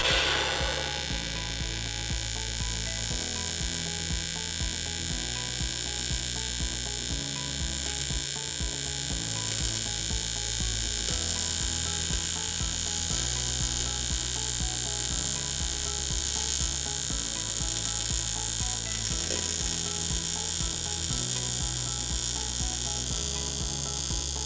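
Tungsten inert gas welding on aluminium with a tungsten electrode gives a steady, loud electric buzz and hiss that pulses rhythmically throughout, with no talking.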